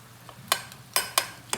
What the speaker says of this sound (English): we want to add the rest of our stock and really wake this dish up